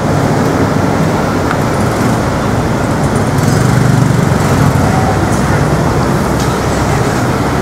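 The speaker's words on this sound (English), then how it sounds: "you'll see the build-up of traffic now" Dense road traffic near BTS Phaya Thai station in Bangkok rumbles steadily, a loud continuous wash of engines and tyres close by with no clear pauses and no speech.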